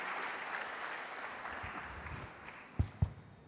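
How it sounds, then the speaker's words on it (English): Faint, scattered audience applause in a hall at a medical conference panel, a soft diffuse wash with a couple of louder thumps near the end. "a very big round of applause is needed to such eminent doctors"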